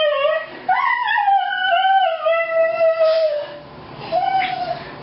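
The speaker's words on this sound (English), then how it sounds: "they all start barking, starting with the mother, then the brother," Several dogs at night give long rising howls and whining yips, one voice after another, loud and close with a short pause before a final howl.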